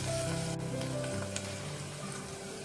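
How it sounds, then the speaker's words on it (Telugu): Asafoetida, chopped onion, green chilies and curry leaves sizzle in hot oil in a pan while bottle gourd and chana dal curry is cooked, giving a steady, close, even frying hiss throughout with no talk. "ఇంగువ, ఉల్లిపాయ, పచ్చిమిరపకాయ ముక్కలు, కరివేపాకు వేసుకోవాలి. కలుపుతూ కొంచెంసేపు ఫ్రై చేసుకోవాలి"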